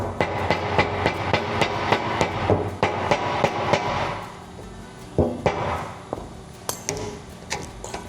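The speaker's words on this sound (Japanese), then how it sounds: "結局マイナスドライバーでこじてこうする感じが一番手っ取り早かったですね。" A flathead screwdriver pries at the lid of a metal pail can, producing a series of sharp metallic clicks and clanks in an irregular rhythm, close by, with a few louder pings near the end.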